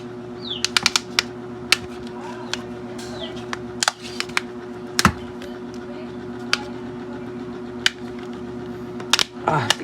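Sharp clicks and small snaps, spaced irregularly, as the back cover of a Redmi 9 phone with an auto-fastboot fault is pried open by hand, close up over a steady low hum.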